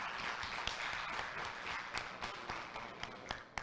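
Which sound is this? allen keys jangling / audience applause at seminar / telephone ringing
audience applause at seminar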